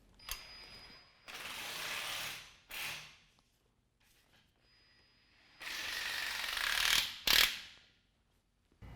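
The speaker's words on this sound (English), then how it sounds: "Now we're going to go ahead and tighten those down." A hand ratchet clicks in fast bursts while tightening bolts on a 5.5-inch Havoc Offroad suspension lift kit on a 2017 Dodge Ram, several close, separated runs of rapid pawl clicking with quiet gaps between them.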